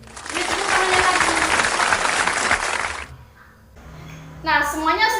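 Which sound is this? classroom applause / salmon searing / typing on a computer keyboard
classroom applause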